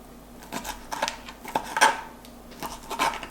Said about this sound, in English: What we're gonna do is cut our shrimp into 3s.